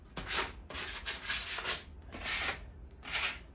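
Rusted metal patio chairs being sanded by hand, with four rasping back-and-forth strokes separated by brief pauses, close and fairly quiet, with no talking.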